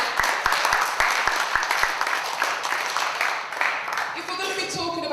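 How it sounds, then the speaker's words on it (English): Audience applause from a panel event audience, broad dense clapping that runs steadily throughout, with a few sharp low thumps at the start and the crowd noise thinning slightly toward the end. "a round of applause"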